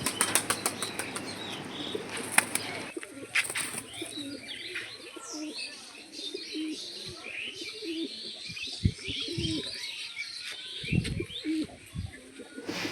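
Loud bursts of fancy pigeons flapping their wings up close in a loft, a quick flurry at first and then scattered flaps, with soft cooing and chirps in between.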